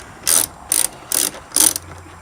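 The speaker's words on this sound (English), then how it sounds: "it's a 7/16 socket for this little bad boy right here" A ratchet fitted with a 7/16 socket turns a screw on a 2019 Hustler Raptor mower, making four short, sharp clicking bursts at even intervals, close and clear, with no talking.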